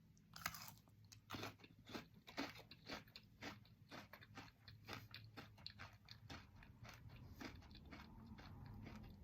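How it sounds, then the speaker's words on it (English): Someone chews a crunchy hazelnut-and-vanilla Misaky vegan gummy close to the mic, making a steady run of crisp crunches and bites for several seconds. The sound is quiet, with no talking. "This one's extra crunchy."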